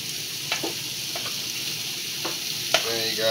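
Sausage frying in a pan while being stirred, a continuous sizzle broken by a few utensil scrapes and knocks against the pan, close and steady with no talking.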